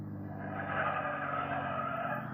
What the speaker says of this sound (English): here comes the car now